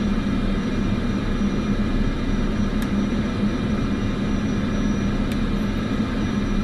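Aircraft engines hum and whine steadily as the throttles are worked in Microsoft Flight Simulator 2024, a continuous moderate drone with no talking.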